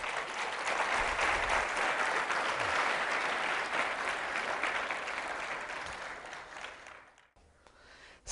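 Congregation clapping for the Lord during a church sermon, a long, steady wash of hands that holds for several seconds before tapering off into quiet.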